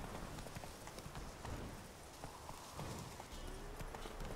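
Geralt's horse Roach galloping in The Witcher 3, a quick, steady clip-clop of hooves, fairly faint and continuous throughout.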